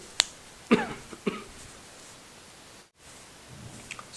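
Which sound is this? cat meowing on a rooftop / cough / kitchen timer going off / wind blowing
cough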